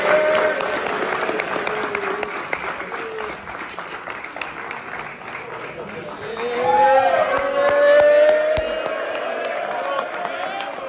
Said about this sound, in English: can we please bring a round of applause?